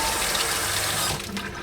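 Running tap water rinsing chopped lettuce, a steady close hiss and splash of water flowing into a sink that eases slightly near the end.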